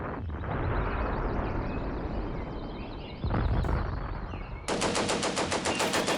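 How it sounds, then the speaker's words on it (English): Vickers machine guns rattle in bursts of rapid fire amid the crack and rumble of battle in the wartime strategy game Combat Mission, with a sharper, close burst near the end. "Sneak and Vickers MGs try to fire"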